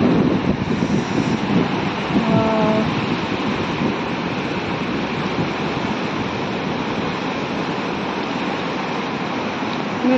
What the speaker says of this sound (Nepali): खोलामा क्या शीतल हावा आइरहेको छ हौ।